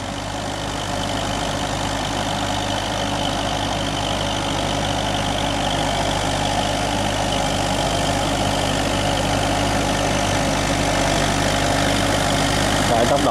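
Newly bought engine running smoothly at a steady idle-like hum, a continuous even drone with a low mechanical rumble that holds constant throughout, close and moderately loud.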